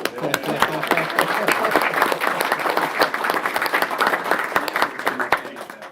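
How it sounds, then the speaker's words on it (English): An audience at a regular city council meeting claps after a badge ceremony, crisp individual claps standing out within sustained applause while people talk underneath. "Now we clap."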